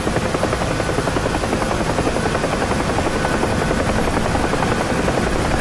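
Helicopter rotor thudding steadily in a hover in the DCS combat flight simulator, a loud, dense and continuous wash of blade chop and turbine whine that stays even throughout, with no talk.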